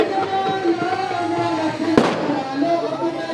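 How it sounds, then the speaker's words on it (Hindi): Fireworks go off at the opening of a Nawaz League party office during an NA-237 election event: a single sharp burst about midway, set against steady crowd noise and nearby voices. "ये नाज़रीन आतिशबाजी का भी मुजाहिरा दिखा रहे हैं हम आपको।"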